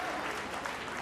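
Audience clapping at an annual school function, a dense, steady burst of applause heard close and continuous throughout a brief moment.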